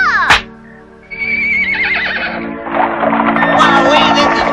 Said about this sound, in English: Yeah, giddy up, horsey, yeah.